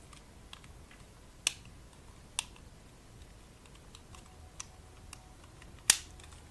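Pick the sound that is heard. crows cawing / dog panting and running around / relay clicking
relay clicking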